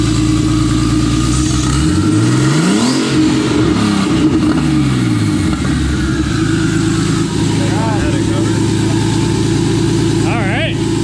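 Turbocharged engine in a BMW Z-Kart fires up for the first time and revs repeatedly, loud and close, with rising and falling pitch sweeps; voices talk over it throughout.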